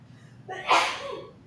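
One loud, sharp sneeze bursts out after a quick indrawn breath during a podcast recording, close to the microphone, then trails off into a brief exhale.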